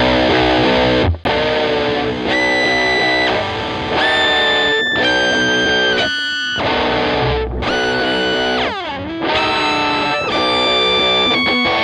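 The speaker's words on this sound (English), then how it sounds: "it's just the overdrive distortion, the exact same settings, but with the whammy" Heavily distorted electric guitar with overdrive plays a riff, with sustained notes bending sharply up and down in pitch from a whammy effect, loud and continuous.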